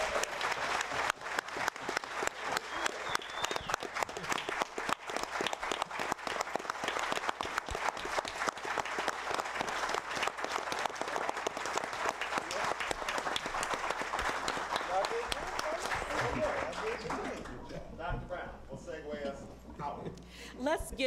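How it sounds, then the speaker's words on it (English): Audience applause at a Michigan Department of Education panel event, dense clapping that runs strongly for most of the stretch and then thins out near the end as a voice begins speaking. "Can we have a rousing round of applause?"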